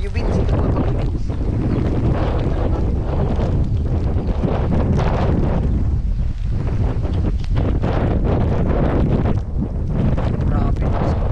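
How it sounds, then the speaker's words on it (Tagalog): Strong typhoon wind roars steadily across the microphone for the whole stretch, a loud, dense, gusting rush with rumbling buffeting throughout. "Grabe na sa hangin."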